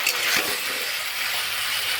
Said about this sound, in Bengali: ভালোভাবে মশলার সঙ্গে সবজিটা কষে নেব